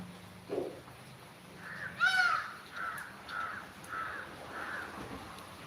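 A crow caws in a series of about five harsh calls, moderately close, spaced roughly half a second apart, with faint background noise and no talking.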